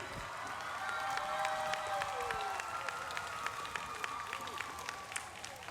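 A school crowd of children and adults claps for the Rotarians, a steady patter of applause with some cheering and shouts mixed in, moderately close and lasting several seconds.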